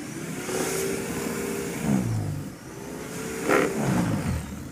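A barely working snowblower clearing deep snow during Winter Storm Jonas, a steady close mid-pitched engine drone with two surging rises as it loads and unloads, alone with no talk.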